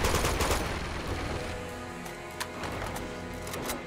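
Rapid gunfire from a sniper rifle and other guns in the game Uncharted 2: Among Thieves, loud and dense, with bursts of shots layered over a steady din of game music and effects.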